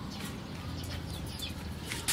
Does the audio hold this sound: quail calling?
yes